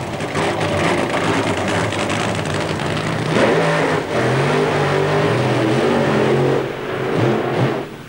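Drag racing cars with 4,000 to 5,000 horsepower engines rev loudly and steadily at Santa Pod, a continuous roar with rising and falling pitch and a brief dip near the end.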